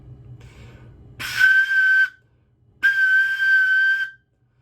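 Two sustained, piercing whistle-like tones from a Jupiter flute headjoint played alone, each lasting about a second with breathy hiss, separated by a short pause.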